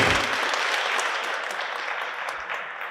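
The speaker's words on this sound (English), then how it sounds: "Let's give another round of applause to Lillian." Audience at a senior talent show applauds a performer, steady dense clapping that starts strong and slowly tapers over a few seconds, heard alone without talk.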